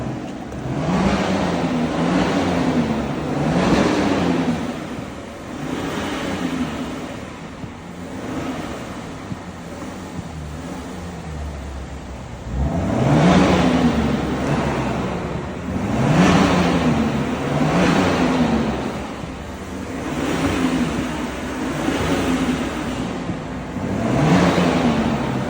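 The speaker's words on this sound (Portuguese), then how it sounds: "Silverado nova aí com difusor de escapamento." A new Chevrolet Silverado diesel pickup fitted with an exhaust diffuser revs repeatedly, with close, loud rises and falls in engine roar in several separate surges over a rumbling idle.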